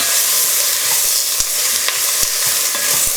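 Onions and plain flour sizzle steadily in a hot pan, with a few sharp scraping knocks of a spoon stirring them, close and loud with no talking.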